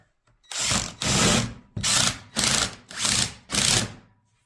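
A cordless power drill drives screws into a plywood bathroom vanity cabinet in six loud, close whirring bursts of roughly half a second each, separated by short pauses, with no talking.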